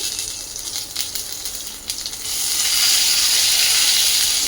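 Ginger paste with spices sizzles in a hot pan, a steady close hiss of frying that swells louder and brighter partway through.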